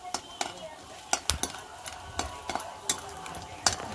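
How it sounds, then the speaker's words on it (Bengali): Lentil dumplings (dal bori) frying in oil, with a steady low sizzle under sharp scraping and clinking of a utensil against the pan, close and fairly quiet. "তেলে ভেজে নিলাম।"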